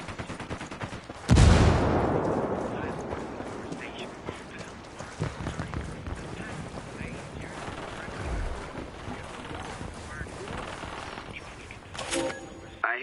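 A frag grenade blast in the video game Ghost Recon Wildlands, a heavy boom with a long rumbling tail, followed by scattered gunfire and smaller impacts, with faint voices.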